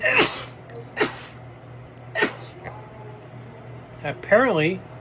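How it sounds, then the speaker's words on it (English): Three sharp sneezes in quick succession at close range, about a second apart, followed by a brief spoken phrase. "it's making me sneeze."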